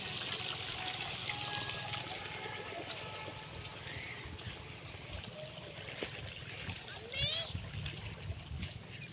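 Rainwater flowing and splashing through a village, a steady wash of trickling and running water close by, with children's voices and faint chatter mixed in under the constant flow.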